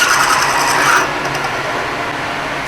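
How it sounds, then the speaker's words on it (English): Steady abrasive grinding of a milling cutter cutting a slot in metal for a race car transmission, loud and close, easing slightly in intensity partway through. "We'll have to mill a slot."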